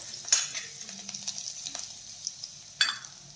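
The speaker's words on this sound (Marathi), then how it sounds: "तेल चांगलं तापलं की त्यामध्ये ठेचलेला लसूण टाकून घेऊयात। लसूण छान तळून घेऊयात।" Crushed garlic frying in hot oil in a wok, with a soft steady sizzle, the scrape of stirring and two sharper clanks against the pan.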